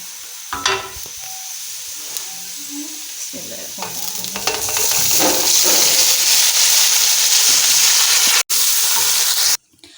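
Garlic, cumin and tomatoes fry in a pan with a scraping stir. The sizzle starts faint with scattered clinks, then swells into a loud, steady hiss that cuts off abruptly.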